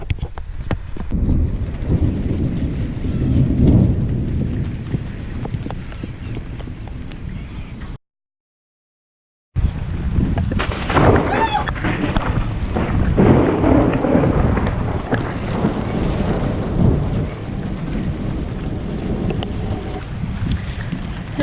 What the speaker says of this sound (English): severe thunderstorms are likely to produce heavy rainfall that may lead to flash flooding